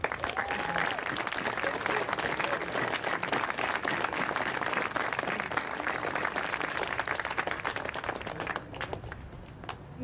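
Sustained applause for teachers, counselors, flag officers and cadet life staff at a military academy awards ceremony, a large audience clapping steadily for about nine seconds before tapering off.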